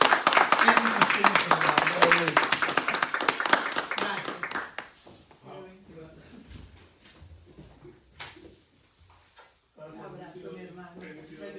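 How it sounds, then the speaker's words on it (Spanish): Audience applause at a book launch for a short-story writer: loud, dense clapping for about five seconds that fades out, followed by someone speaking briefly and other voices nearby. "Yo pido un fuerte aplauso para nuestro escritor."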